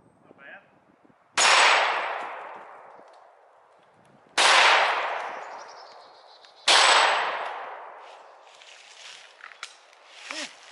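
Canik TP9 Elite Combat 9mm pistol fired outdoors, three sharp loud shots spaced a few seconds apart, each followed by a long fading echo across open ground.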